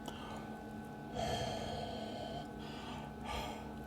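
Two breaths blown out into cold air at about two degrees, close and soft, each a short breathy whoosh separated by a pause of about two seconds.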